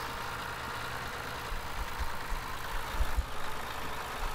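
A tractor pulling a trailer in the farming game Farming Simulator 15 runs with a steady low engine rumble that swells slightly midway; nobody speaks.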